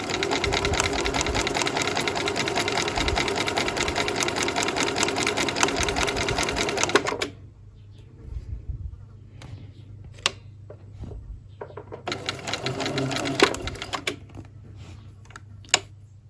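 A home sewing machine stitches a seam in a loud, rapid, steady mechanical chatter for about seven seconds, falls quiet with a few scattered clicks and taps, then runs again in a shorter burst.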